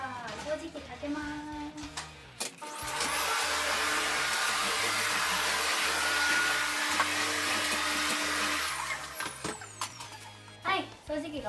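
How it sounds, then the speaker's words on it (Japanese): A household vacuum cleaner runs with a steady, loud whine for several seconds during home cleaning, starting and stopping abruptly, with someone talking before and after it. "掃除機かけます"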